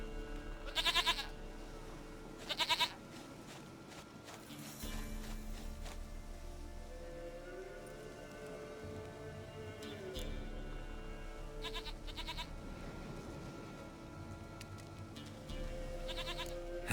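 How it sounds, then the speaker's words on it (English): A goat bleats in a fantasy video game, short bleats surfacing among game ambience, music and faint footsteps, with the strongest bursts early on and quieter calls later. "Goat of mine, dearest, sweetest goat."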